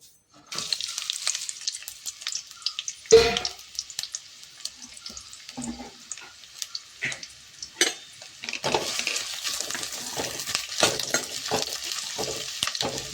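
Sliced onion frying in oil in a pan for a mackerel puli munchi, a soft steady sizzle broken by a few sharp scraping stirs, then growing into a denser crackle toward the end, with no voices.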